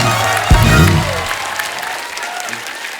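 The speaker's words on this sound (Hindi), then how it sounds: "एक बार जोरदार तालियां हमारे मेहमानों के लिए।" A studio audience on Kapil Sharma's comedy show claps loudly for the guests. The dense applause starts at full strength, a short low musical sting sounds early on, and the clapping fades over the next few seconds.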